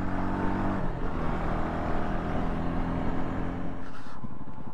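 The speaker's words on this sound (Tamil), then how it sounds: "ஹிமாலயன் பிச்சுட்டு போகுது." A Royal Enfield Himalayan 450 motorcycle pulls away up a Munnar hill gap road, its engine droning steadily and nearby, pitch shifting as it revs and recedes, with a gear-change-like break near the end.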